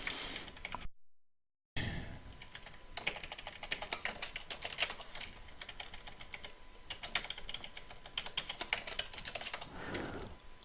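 Rapid typing on a computer keyboard clatters in dense, uneven bursts of crisp clicks, close and fairly loud, with a brief pause partway through and no talking.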